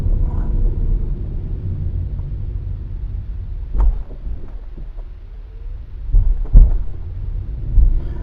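A car on a road trip around Kilmarnock rolls over a road bump, heard from inside as a low, steady road rumble broken by several dull thuds and bangs as the wheels cross it.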